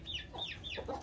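A backyard chicken clucks a few quick times at close range, soft calls with no talk over them.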